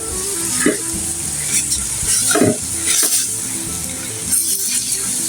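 Mixed vegetables being stir-fried with salt in a pan for egg fried rice, with steady loud sizzling and repeated scraping stirs of a utensil against the pan.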